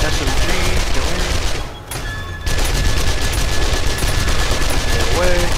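Submachine gun fire in the survival game 7 Days to Die during a zombie horde night: loud, rapid continuous bursts, briefly pausing after a couple of seconds before the dense rattling resumes, with a voice faintly under it.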